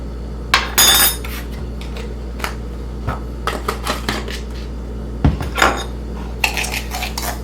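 Ground black pepper and Red Robin seasoning rub being mixed in a bowl for a turkey: close, bright clinks and scrapes of a utensil against the bowl, coming in irregular bursts without any voices.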